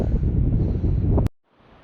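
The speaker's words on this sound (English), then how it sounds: "But it is very windy up here." Strong wind on Andesite Ridge in the Tahoe backcountry buffets the microphone with a heavy, steady roar that cuts off abruptly, leaving a faint breezy hiss.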